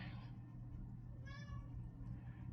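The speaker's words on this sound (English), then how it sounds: "My cat's trying to beat down the door." A pet cat meows at a closed door indoors, a couple of short, faint cries set against a steady low background hum.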